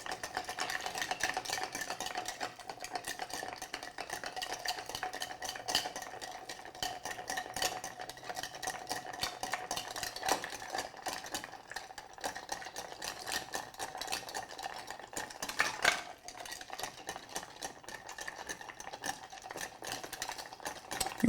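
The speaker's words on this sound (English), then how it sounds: "we'll use a weighted spoon to stir" A weighted spoon stirs Athol Brose mixture in a bowl, giving a steady, continuous scraping and swishing for about twenty seconds, close and moderately loud, with no talking.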